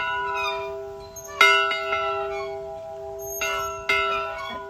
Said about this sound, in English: All right, so this is the bell.